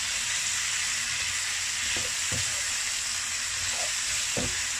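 Pork belly stirred with oyster sauce in a frying pan, a steady loud sizzle with a few soft scrapes of the spatula, close up and without speech.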